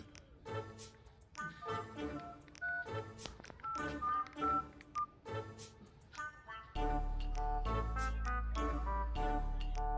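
A telephone keypad sounds a quick run of short, distinct dialing beeps, followed by a loud, steady tone that holds to the end.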